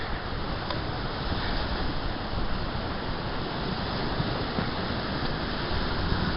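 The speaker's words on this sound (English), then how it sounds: "This one's a rock beach." Waves wash over a rocky beach on the Canadian coast, a constant, dense roar of surf and rushing water with some wind, steady throughout and free of voices.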